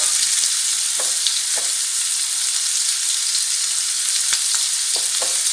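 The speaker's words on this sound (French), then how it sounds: "je fais frire mes boudins de kefta jusqu'à obtention d'une couleur dorée" Kefta sausages frying in a pan, a steady close hiss of sizzling oil throughout with a few brief crackles and pops, no voices.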